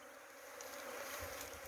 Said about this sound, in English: Very unimpressed bees